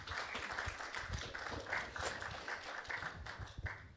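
Audience applause after a round-table discussion, a dense steady patter of many hands clapping at moderate distance, continuous for several seconds.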